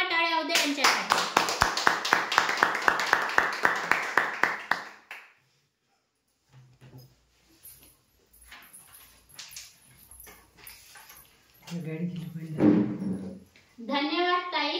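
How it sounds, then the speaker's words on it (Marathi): Audience applause for a bumper prize draw winner from Bhandara, a dense burst of clapping for about five seconds before it stops, followed by quiet scattered sounds and someone speaking. "जोरदार टाळ्या होऊ द्या यांच्यासाठी."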